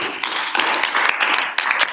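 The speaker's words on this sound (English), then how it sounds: "All right, claps again for these two groups." A classroom crowd gives a short burst of applause for two debate groups, a dense, close patter of hand claps that swells and dips over about two seconds.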